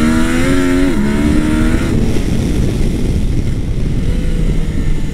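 A Yamaha Niken three-wheel motorcycle with its stock exhaust, heard while riding in Corsica, its engine loud and close as it revs and shifts, then settles into a steady drone.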